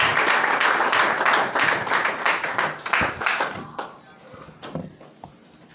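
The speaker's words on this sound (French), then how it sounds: "Sous vos acclamations, s'il vous plaît." Audience applause greets a presidential candidate as he comes up to give a speech at a public event, loud crowded clapping that swells early and then thins out into scattered claps toward the end.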